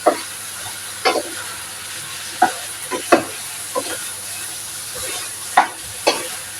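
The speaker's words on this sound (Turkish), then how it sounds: "Soğanla da kavuruyorum patlıcanları." Eggplants and onions fry in a pot, a steady sizzle punctuated by a handful of sharp scraping stirs at irregular intervals, close and fairly loud with no voices.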